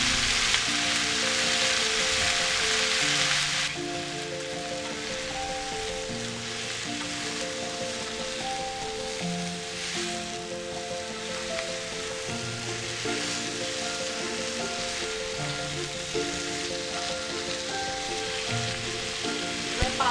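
Bahari green chicken fries in a pan with a dense, loud, continuous sizzle like heavy rain, brighter and harsher for the first few seconds and then steadier, with a low musical tone running faintly underneath.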